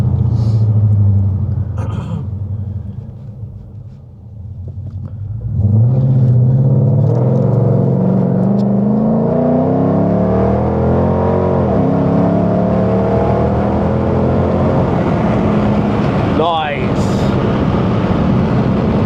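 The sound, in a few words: Dodge Charger R/T engine revving while driving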